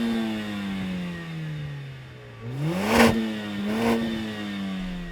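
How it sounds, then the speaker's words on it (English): A 2016 Mercedes-AMG A45 with sports exhaust in race mode and no petrol particulate filter revs up from a steady idle, rising in two sharp blips with a crackle, fairly close but moderately quiet. "Let's have a listen to the Mercedes."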